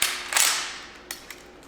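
Rifle action worked by hand to clear the chamber, a rifle fitted with a 50 cal suppressor: a loud metallic rack near the start, then two sharper clicks later, close and alone with no talk.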